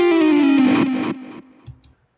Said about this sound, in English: there's way more reverb, I think, on the effects one